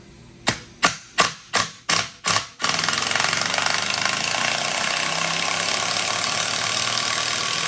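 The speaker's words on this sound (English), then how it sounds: "So now we're going to switch it to A, or assist mode, and this is a little bit different when unscrewing something." A Ryobi 18V ONE+ HP brushless impact driver in assist mode backs out a fastener: six sharp, evenly spaced impact bursts, then a loud continuous high-speed hammering whir that runs steadily to the end, close up with no talking.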